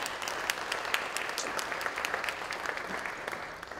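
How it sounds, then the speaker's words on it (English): An audience applauds students at a recognition ceremony, a dense, steady wash of many hands clapping at moderate level for several seconds, with no voices over it. "Let's have a round of applause for our January students."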